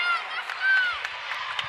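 A women's college basketball crowd cheering in a gym, a broad sustained roar with whoops and scattered claps rising and falling, moderately loud with a commentator talking over it.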